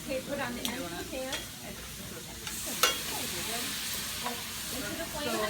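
Steak Diane flambéing in a hot pan, a steady sizzling roar with stirring scrapes and occasional sharp crackles, close by, with people talking softly underneath.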